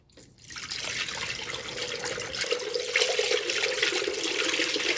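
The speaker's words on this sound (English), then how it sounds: "Now the pouring should go much smoother." Liquid coolant poured into the engine of a 1997 Cobra, a steady close splashing gurgle that starts abruptly and grows slightly fuller over several seconds, with no speech.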